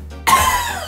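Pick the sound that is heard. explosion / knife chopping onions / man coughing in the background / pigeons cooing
man coughing in the background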